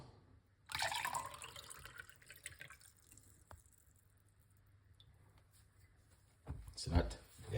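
Water pours into a cup with apple cider vinegar, a short gush that trickles off into quiet, then a brief louder splash near the end, fairly close.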